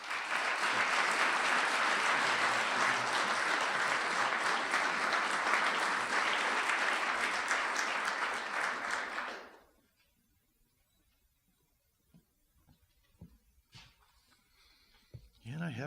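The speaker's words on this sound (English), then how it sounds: "a round of applause" Loud, steady applause from an awards ceremony audience fills the first nine seconds, then cuts off abruptly into near silence with only a few faint scattered sounds.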